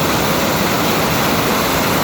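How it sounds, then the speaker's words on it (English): Water running steadily into a small creek outdoors, a constant close rushing wash with no pauses and no voices over it. "it's staying down and flowing into this little creek here"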